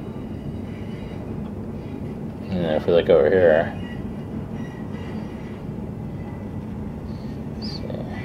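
Steady low rumble of a garbage train passing along Seattle's Elliott Bay waterfront runs throughout, a louder screech swelling in briefly, while someone talks over it.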